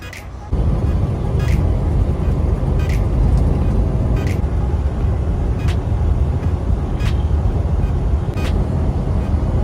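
A semi truck pulling a stepdeck trailer cruises down a desert highway. A loud, steady rumble of engine and road noise fills the whole stretch, with faint ticks recurring at regular intervals.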